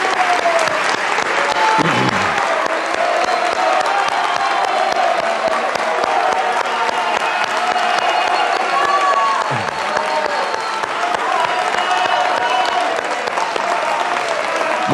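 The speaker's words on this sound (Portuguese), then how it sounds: "Muito obrigado pela presença da plateia, que atendeu prontamente ao pedido de aplausos." Sustained applause from a large studio audience at a televised Brazilian election debate, steady and loud throughout, with a few faint voices and whoops mixed into the clapping.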